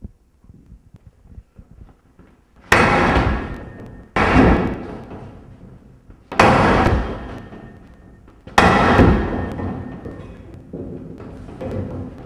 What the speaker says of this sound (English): Jersey boot lock busting, full swing.